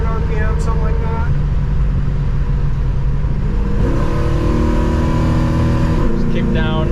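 A 1965 Mustang Fastback engine drones loudly under acceleration, kicking down and then upshifting into third with audible pitch shifts, while people talk over the engine.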